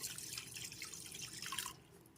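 Water poured into a wok, a close splashing, trickling stream that runs steadily and stops abruptly near the end, fairly quiet, no talk.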